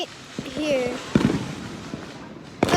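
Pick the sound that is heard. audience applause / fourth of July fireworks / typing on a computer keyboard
fourth of July fireworks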